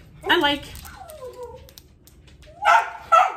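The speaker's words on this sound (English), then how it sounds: "They're just going to continue to bark if I don't let them out." Dogs indoors whine, yip and bark to be let out, with a drawn-out whimper between sharper bursts of yipping near the start and end.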